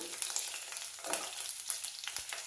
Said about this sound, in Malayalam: ചെറിയ ഉള്ളി നെയ്യിൽ നല്ലോണം ഒന്ന് തൂങ്ങിച്ച് കൊടുക്കുക